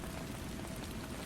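Steady rainfall patters softly and evenly, a continuous faint wash of drops with no voices.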